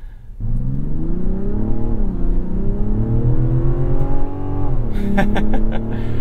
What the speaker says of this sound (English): Some of that sound is piped in, but it's still good inline 6 sound